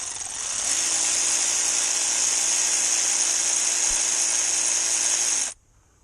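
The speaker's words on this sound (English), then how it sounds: "This is an AC Delco heavy duty 3/8 drive ratchet, battery operated" A heavy-duty AC Delco battery-powered 3/8-inch drive ratchet spins a bolt during Volkswagen Tiguan high-pressure fuel pump work, giving a close, loud, steady motor whine that runs for about five seconds and then cuts off abruptly.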